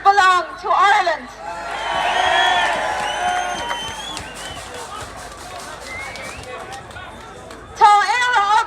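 A large crowd at a political rally in Ireland fills the middle stretch with a sustained roar of cheering and murmuring, rising strongly then settling into a steady hubbub, with someone speaking before and after.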